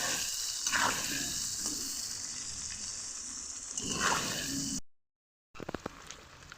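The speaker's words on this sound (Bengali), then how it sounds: "গ্যাসের ফ্লেমটা আমি লোতে রেখে আলুগুলোকে ভালোভাবে ভেজে নেব লাল লাল করে" Potato pieces fry on a low gas flame for a vegetarian cabbage curry, sizzling continuously with a couple of stirring swells, then a short silent break before the sizzle resumes with sharp clicks.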